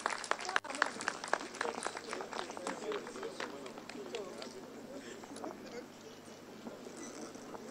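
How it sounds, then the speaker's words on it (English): Audience applause at a Nigerian public event for the first female Chief Justice of Nigeria, a dense patter of clapping that starts loud and thins slowly, with voices mixed in underneath. "Please keep the applause going."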